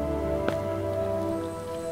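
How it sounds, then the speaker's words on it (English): Rain falls in the Starbound video game, a steady patter heard alone under a sustained humming tone throughout. "Why is it raining?"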